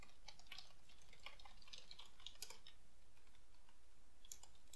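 Keys clicking on a computer keyboard, a quiet, irregular patter of light taps spread through the stretch with no talking, set against faint background noise.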